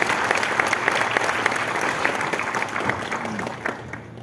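Vigorous audience applause at an awards ceremony in Bihar, a dense continuous burst of clapping that holds for a few seconds before thinning out.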